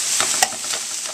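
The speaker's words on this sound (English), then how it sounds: "you're going to put it in the frying pan with the meat. And then, of course, stir it all up, mix it all together." Chopped onion and ground meat stirred in a hot frying pan, a steady sizzle with a few scraping strokes of a utensil and one sharp clack against the pan, close and fairly loud.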